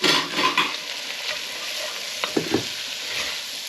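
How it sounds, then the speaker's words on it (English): Carrot, celery and potato are stirred around in a soup pot with bacon and lentils, giving a steady sizzle and frying hiss broken by a few scraping clacks of the spoon. "So into there now goes the carrot, the celery and the potato. I'm just going to smush that around"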